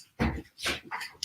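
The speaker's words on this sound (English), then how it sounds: "I have to let the puppy in. Hang on, because otherwise she's going to scratch the door." A puppy whimpers and yips in three short whiny bursts from behind a door, fairly close and alone, each cry rising and falling quickly.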